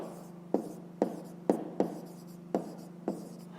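Handwriting with a pen on paper during a fifth-grade maths exercise, a series of sharp, evenly spaced taps and short scratchy strokes, close and fairly quiet, with no one speaking.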